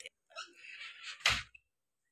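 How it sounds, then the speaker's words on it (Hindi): A house door swinging shut with a short scraping slide and a dull thud as it closes, close by and quiet, alone with no talking. "दरवाजा कर देते"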